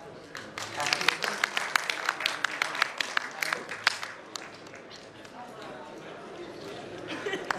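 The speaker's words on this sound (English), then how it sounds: "Please clap." Conference audience applause for a panelist, a burst of moderate clapping that thins out and fades into room chatter and murmuring voices.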